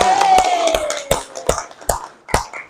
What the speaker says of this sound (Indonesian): tepuk tangan untuk anak-anak semua